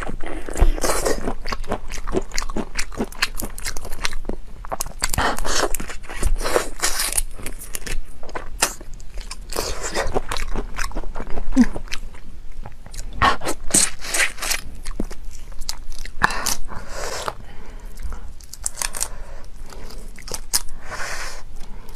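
Close, steady crunching bites and wet chewing of marinated shrimp at a mukbang-style eating session, continuous and rhythmic with scraping and crackling textures, no talk.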